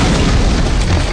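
A single heavy cannon blast from a battle scene in a historical drama fills the moment, a loud sustained low boom with rumbling body that carries through the whole span.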